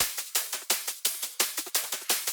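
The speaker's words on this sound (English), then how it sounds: "And with transient shaper, it sounds like this." Drum top loops for melodic drum and bass run through a transient shaper to make them choppier: fast, bright percussive hits with clipped, shorter tails in a steady repeating pattern, loud and alone.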